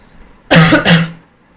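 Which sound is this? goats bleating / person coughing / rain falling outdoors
person coughing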